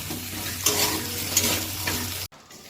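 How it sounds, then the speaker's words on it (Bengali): Chickpeas being sautéed and stirred in a pan for a Bengali cabbage curry, a steady close sizzle with light scraping strokes, then a sudden drop near the end. "এবার একটু সেটা কষতে থাকবো, তাতে ছোলাটাও নরম হয়ে যাবে"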